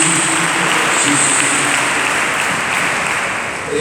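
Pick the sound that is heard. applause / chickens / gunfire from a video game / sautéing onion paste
applause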